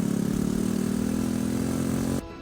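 A motorcycle carrying two riders toward Madurai drones steadily with a loud, rough engine note, continuous and close until it cuts off abruptly near the end.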